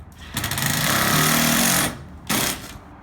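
A power drill bores a screw hole through an aluminum diamond plate threshold during a floor install, a loud grinding whir lasting almost two seconds, then a second shorter burst after a brief pause.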